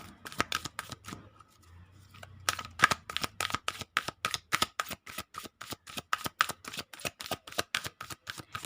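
Tarot cards are shuffled by hand in a long, even run of crisp slaps and riffles, close and steady, with a few softer handling sounds at the start.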